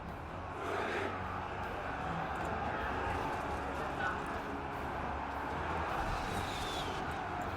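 Horses gallop across a battlefield in the video game Total War: Three Kingdoms, with cavalry hooves rumbling amid crowd noise and battle cries and a voice speaking over the action.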